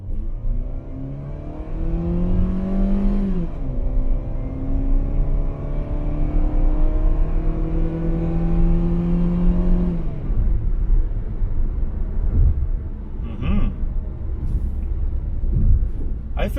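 A 2021 Mitsubishi Xpander Cross MPV accelerates at full throttle, heard from inside the cabin. The engine note climbs through a long rising pull, drops at each gear change and builds again, and a voice talks briefly near the end.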